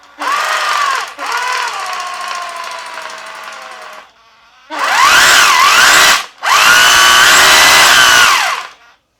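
A Makita DHR202 cordless SDS hammer drill being repair-tested, giving a loud whirring motor burst, a sustained lower run, then two strong, harsh bursts with rising and falling pitch, close up with no talk.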